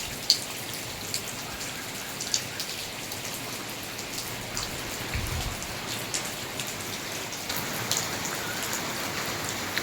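Steady rain falls in Malaysia, a dense even hiss of drops on surfaces with occasional louder spatters, continuous and moderately close with no voices.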